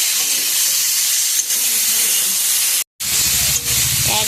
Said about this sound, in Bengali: এবারটা খুব ভালো করে সাঁতলিয়ে নেব